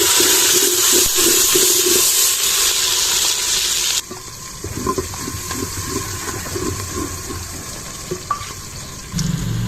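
Garlic and onion frying in a pot, a loud hiss that drops abruptly partway through to a softer, steady sizzle with small pops and clatters, no talking.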